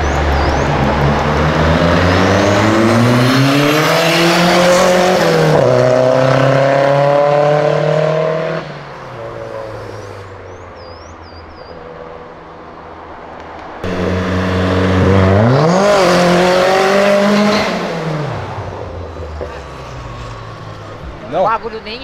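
Naturally aspirated V8 of a late BMW M3 accelerating hard, a loud rising roar climbing through gears, dropping off, then surging again in a second full-throttle pull, with voices underneath.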